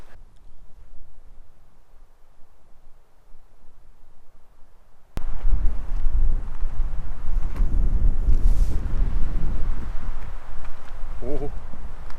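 Strong, gusting wind buffets the microphone on a hike up toward a cave on La Palma in the Canary Islands, quieter for the first few seconds, then a loud, steady roar with a brief voice near the end.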